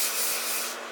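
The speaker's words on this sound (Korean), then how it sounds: "여기 모서리 부분이 날카로우면 둥글게 사포로 말아주고" Sandpaper is pressed against the edge of a wooden bowl spinning on a lathe, making a continuous, close, bright rasping hiss that eases slightly near the end.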